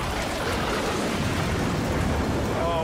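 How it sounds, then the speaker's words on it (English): Rain in a kids' action episode, a steady full-band hiss and patter of a downpour with a low rumbling wash underneath, constant and fairly loud. "Where did this rain come from?"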